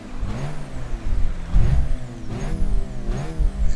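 Car engine revving hard at Tsukuba Circuit, individual throttle bodies snapping open with an intake roar, several rising throttle blips climbing in pitch and falling back, loud and close.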